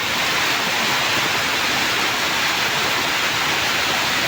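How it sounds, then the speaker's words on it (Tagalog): Floodwater rushing beside a house during Typhoon Carina, a continuous, loud, dense roar of churning water that stays steady throughout with no pauses. "grabe ang baha"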